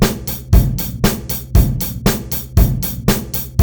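A programmed drum pattern from the Groove Pizza drum sequencer loops a steady straight rock beat, with punchy kicks, snare hits and crisp ticking hi-hats, close and alone.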